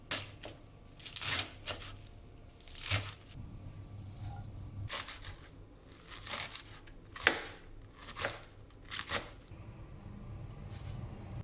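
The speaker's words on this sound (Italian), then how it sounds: "la scarola, che quindi abbiamo tagliuzzato ed è già pronta" Escarole is chopped with a knife in a run of crisp, irregular cuts, roughly a dozen close strokes of leaves under the blade with short pauses between.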